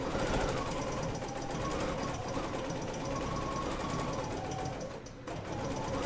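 A BERNINA sewing machine runs with its stitch regulator, started by the start-stop button, giving a quiet continuous stitching hum with a brief dip near the end.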